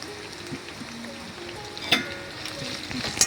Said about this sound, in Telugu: ఇవన్నీ నూనెలో మొత్తం ఫ్రై చేసుకోవాలి. మిరపకాయలు, ఎల్లిగడ్డ, కరేపాకు.